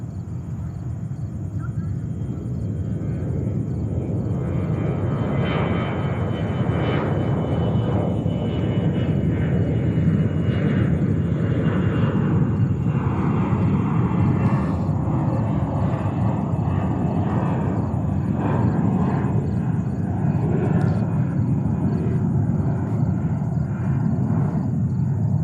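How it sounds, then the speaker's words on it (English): A Turkish Air Force Airbus A400 military transport landing at JFK in New York gives a steady, loud broadband rumble that holds evenly throughout, with no speech. "We have Turkish Air Force Airbus 400 coming in."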